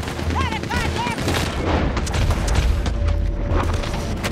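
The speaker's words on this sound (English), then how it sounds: "They got a freaking machine gun." Rapid gunfire crackles in Red Dead Redemption 2 as a machine gun opens up, a dense rattling fusillade with heavy booms that builds after a few excited vocal yelps at the start.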